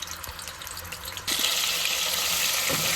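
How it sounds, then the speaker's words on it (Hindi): A spoonful of garlic drops into hot oil for a matar aloo chicken curry and bursts into a loud, close, continuous sizzle that starts abruptly after a quieter moment. "ऑयल जब हमारा गर्म हो जाएगा तो इसके अंदर 1 चमचा भर के आप लहसुन का डाल दें।"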